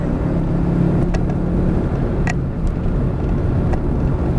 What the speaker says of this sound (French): on se laisse emmener à l'extérieur et on accélère